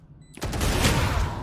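Rapid automatic gunfire erupts suddenly in a Valorant match, a dense loud burst of shots following a short quiet moment.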